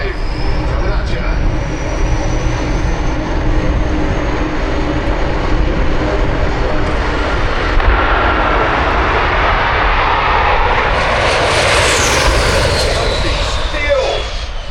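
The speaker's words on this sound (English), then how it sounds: "Fire Force 5, coming at you." The Fire Force 5 jet dragster making a run down the Santa Pod drag strip, a loud, continuous jet roar that swells and shifts as it passes.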